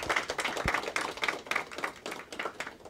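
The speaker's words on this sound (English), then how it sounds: "let's give yourselves a round of applause" A small crowd applauding, steady scattered clapping heard from a distance at low level with no voices.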